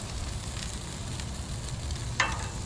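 Bacon crackles in a steady close sizzle on a Blackstone griddle, with one sharper scrape or pop near the end and no talking.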